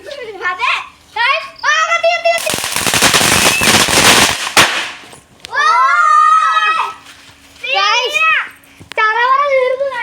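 A chain of firecrackers goes off in a dense, loud crackling burst lasting about two seconds, set between stretches of children talking and calling out.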